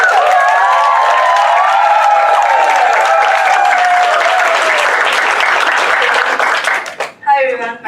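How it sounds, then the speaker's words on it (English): A stand-up comedy audience in Singapore breaks into loud, dense applause with some cheering. It holds steady for about seven seconds, then tapers into scattered claps. "you guys applaud louder the closer she gets to the stage"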